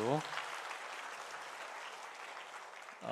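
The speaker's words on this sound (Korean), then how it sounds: "우리 옆에 분에게 한번 격려와 따뜻한 응원과 사랑의 박수" Clapping from a church congregation during a Sunday service fills the room, a steady wash of applause that begins right after a brief voice and fades near the end.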